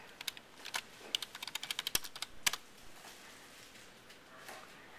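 Quick bursts of typing on a computer keyboard while logging into a language-learning database, with a fast run of crisp key clicks in the first half and then sparser, softer taps.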